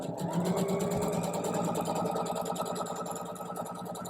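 A sewing machine stitches two pieces of quilting fabric together in a continuous rapid mechanical whir with a fast needle rhythm, steady and close for the whole stretch, with no voices.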